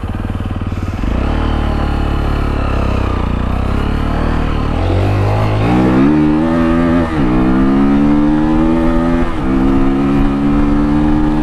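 A Sinnis Terrain T125 motorcycle accelerates close by. The engine note climbs through several gears, with brief dips at each shift, and stays loud and continuous throughout.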